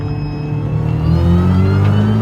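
A 2002 MINI Cooper S John Cooper Works accelerating hard, its engine note climbing steadily in pitch as it pulls, loud and close from inside the car, with no talk over it.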